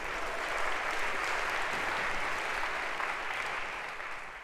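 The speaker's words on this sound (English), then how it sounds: "round of applause for our volunteer." A lecture-hall audience at a Harvard introductory computer science class claps steadily for a volunteer, a continuous, fairly distant wash of applause that tapers slightly at the end.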